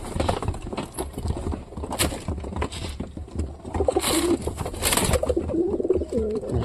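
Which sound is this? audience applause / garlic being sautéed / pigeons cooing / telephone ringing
pigeons cooing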